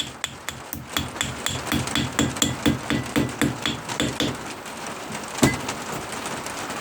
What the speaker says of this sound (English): Now you can actually use the this gasket hammer to actually cut